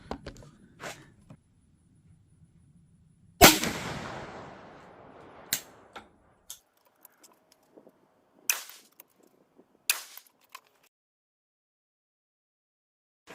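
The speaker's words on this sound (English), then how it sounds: "switch back to the Winchesters, and we'll do another little 3-shot group down there" Three sharp .410 shotgun slug shots fired with Winchester loads, each a crisp crack spaced several seconds apart. The first is loudest with a trailing echo, and smaller clicks and knocks fall between them.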